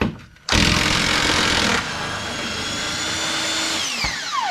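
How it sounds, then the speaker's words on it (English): A 1/2-inch drive impact wrench hammers loose a rear control arm bolt on an SRT-4, a loud sustained rattling burst that drops in intensity midway and then winds down with a falling whine near the end. "Impact does seem to work best."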